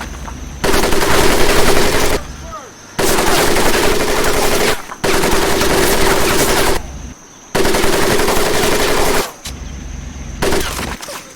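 Sustained machine gun fire in the WWII shooter Medal of Honor Pacific Assault, loud and close, coming in four long continuous bursts separated by brief pauses, with a fifth burst starting at the end.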